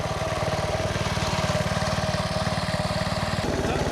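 A modified mini bike's small single-cylinder engine runs steadily right after a pull start, a close, loud, rapid putter with an even beat and a slight shift in tone near the end.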